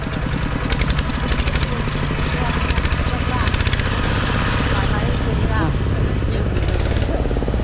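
Walking tractor engine running in a rice field, a steady chugging mid-pitched drone near and loud for the whole clip, with voices talking over it.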